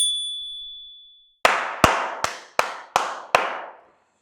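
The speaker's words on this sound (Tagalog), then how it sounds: "Sumobrang palakpak." Six slow, evenly spaced, loud claps ring out with echoing tails, following a brief high tone at the start.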